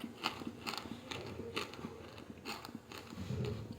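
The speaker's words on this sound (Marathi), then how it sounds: "ऐकल्यात ना कसा कुरकुरीत आवाज येतोय थोडेसे खाऊनही दाखवतो" Fried masoor lentils, cooled after frying for dalmoth, crunched between the teeth in a home kitchen: a run of crisp, crackly bites and chewing, close and fairly quiet, with no talk.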